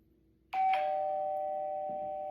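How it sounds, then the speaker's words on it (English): A doorbell sounds once, close and clear: a bright two-tone chime strikes after a brief quiet moment, then rings out with a long, slowly fading tail and no voices. "As the doorbell rang again,"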